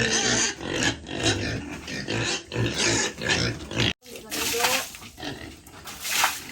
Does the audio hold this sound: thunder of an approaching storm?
no